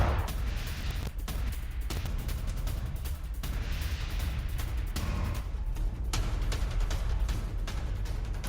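Drone strike and gunfire in Gaza combat footage: dense, continuous rumbling blasts and crackling reports with sharp bursts throughout, loud and steady with no clear pauses.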